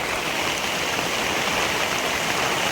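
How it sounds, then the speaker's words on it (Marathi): Steady rain pours onto a freshly puddled, muddy paddy field, a dense continuous hiss of drops on water and mud, close and even throughout with no voices. "आणि पाऊस चालू झालाय"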